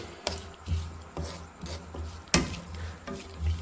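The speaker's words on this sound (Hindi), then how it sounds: "इस सब को अच्छी तरह मिक्स कर देंगे" A spoon scraping and stirring a masala mixture in a pan for egg and potato curry, with rhythmic rubbing strokes, sharp clinks against the metal and soft sizzling underneath.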